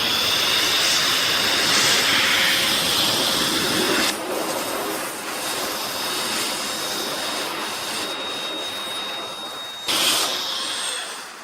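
A Chemicalworkz car dryer blower running on stage 1 gives a steady, loud rushing whoosh of air that dips in level partway through and keeps roaring close by, with no voices.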